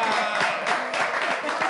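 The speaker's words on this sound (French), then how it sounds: "Applaudissez Suzanne." An audience applauds Suzanne at a live show, steady dense clapping filling the whole moment at moderate loudness, with voices mixed in underneath.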